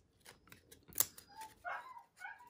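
A few faint dogs bark in the distance, scattered and irregular, over a quiet background.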